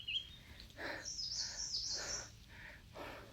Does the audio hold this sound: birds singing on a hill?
yes